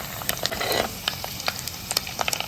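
Homemade dried prawns fry in a pan, giving a continuous close sizzle with scraping stir strokes and scattered crisp pops, no talking.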